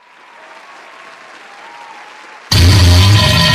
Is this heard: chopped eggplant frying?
no